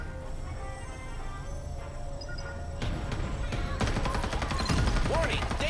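Gunfire in the battle game Farlight 84: scattered shots sound over game ambience at first, then rapid automatic bursts grow louder and denser toward the end, mixed with game voice lines and effects.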